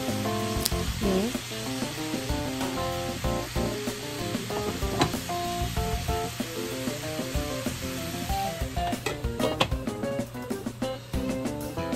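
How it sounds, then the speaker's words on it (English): Stir-fried broccoli and mushroom sizzle steadily in a covered pan on a switched-off stove, a continuous fry under prominent background music. "We can now turn off the stove and we will just simmer it."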